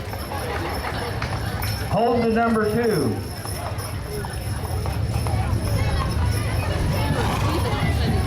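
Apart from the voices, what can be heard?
horse hooves clip-clopping in a parade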